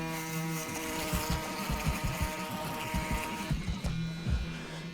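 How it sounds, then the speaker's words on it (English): Electric foil shaver run along the bottom of a mid taper haircut, a close, steady buzzing hum with rhythmic pulses as it passes over the hair, easing off near the end. "Now we're going to grab our forward shaver, forward shave the bottom."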